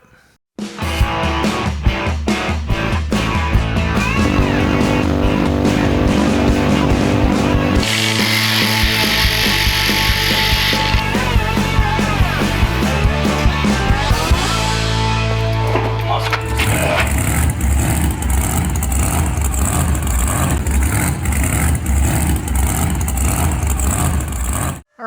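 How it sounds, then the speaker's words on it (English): A cobalt drill bit bores into hard metal on a homemade big-block EFI intake ram, giving a loud, sustained machine whine that shifts pitch in stages as the cut goes on, with no talking over it. "I have a cobalt bit, so you can drill hard metal with those."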